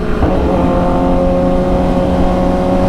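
A 1000cc sport motorcycle cruises through Atlanta city streets, its engine a loud, steady, close droning hum with a strong tonal whine and no voices.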